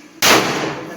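A single sharp gunshot at an outdoor shooting range, loud and close, cracking suddenly out of quiet and ringing out briefly afterward.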